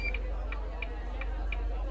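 Door warning beep from a Volvo B5LH MCV EvoSeti bus on London route 68 in the OMSI 2 simulator, sounding as short, evenly spaced high beeps repeating about every third of a second over a steady low engine hum.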